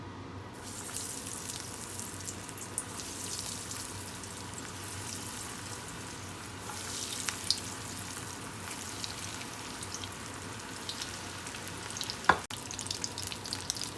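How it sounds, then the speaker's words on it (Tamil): Breadcrumb-coated veggie balls deep-fry in hot oil, a steady dense sizzle with bubbling crackle running throughout and one brief sharper pop near the end, no voices. "நல்லா கோல்டன் ப்ரௌன் வர்ற வரைக்கும் நீங்கள் ஃப்ரை பண்ணிக்கோங்க"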